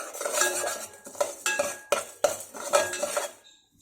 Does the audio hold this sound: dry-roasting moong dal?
yes